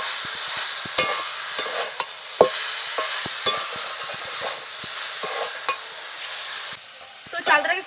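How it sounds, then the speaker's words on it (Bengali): Rice is stirred and fried in a pan for a village-style sweet, sour and spicy pickle. Irregular sharp scraping strokes of the spoon sound over a steady background sizzle, and a brief clatter comes at the end. "আমি চালটাকে খুব ভালো করে ভেজে নিয়েছি।"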